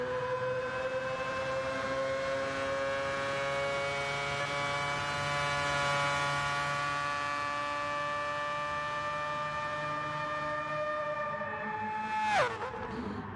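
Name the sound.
Mazda rotary engine racing car in the video game GT Sport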